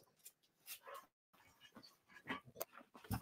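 A puppy just in from the cold outside whimpers and yips softly in bursts, fairly faint and close, in a quiet room.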